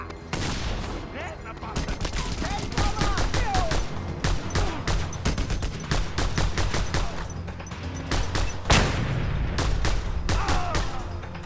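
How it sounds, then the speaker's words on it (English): Rapid video-game gunfire from an assault rifle and twin pistols, dense bursts and volleys crackling almost nonstop, loud and close, with a few brief pauses between bursts. "If you go through a clip on your assault rifle and you don't have enough time to reload it, you bust out them twin pistols"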